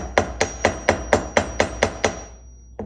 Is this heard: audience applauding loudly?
no